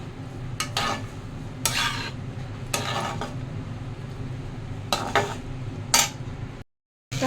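Butter paneer gravy is stirred in a pan with a spoon, giving about six separate scraping, clattering strokes at close range, spaced apart over a quiet background with no talking.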